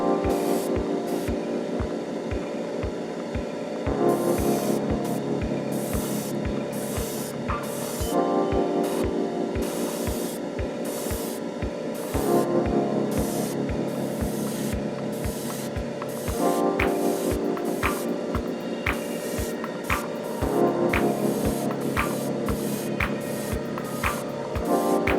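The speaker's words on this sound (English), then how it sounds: "I painted them white using decanted Tamiya white surfacer." Airbrush spraying decanted Tamiya white surfacer onto plastic model kit parts, a steady hiss in repeated bursts of a few seconds each with brief pauses between, close and fairly quiet, no talk.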